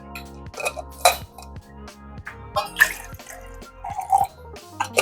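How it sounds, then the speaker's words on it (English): Water is poured into a mixture of spices, Himalayan pink salt and apple cider vinegar, with splashing, dripping and clinking of a vessel in irregular close bursts, no talk. "Now this we're going to mix with 150 ml of water."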